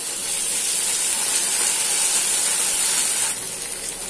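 Ginger garlic paste hitting hot vegetable oil with cumin seeds and onion in a kadhai, a loud, dense, continuous hissing sizzle that eases slightly toward the end, no talking.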